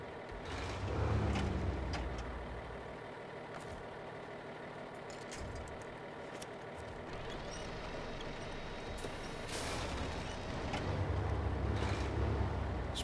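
A truck in the SnowRunner video game drives and accelerates, its engine rumble steady and strong throughout, with low-end surges near the start and again toward the end.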